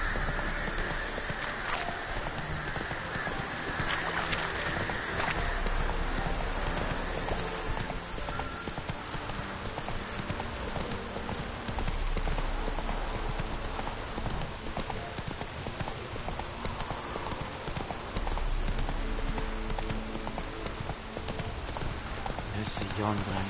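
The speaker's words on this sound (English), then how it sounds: "Run, Roach" A video game horse gallops on PS4 with steady, rapid clip-clop hoofbeats that run throughout, mixed with voices and game sound.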